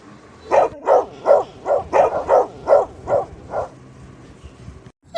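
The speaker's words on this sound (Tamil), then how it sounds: "எம்மாடி நாயா" A dog barks about nine times in a steady rhythm, fairly close and loud, then stops, leaving a quiet stretch.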